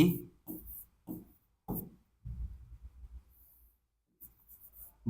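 A pen scratching out a physics problem solution on paper, short quick strokes in uneven bursts close to the mic, with a low voice talking in between.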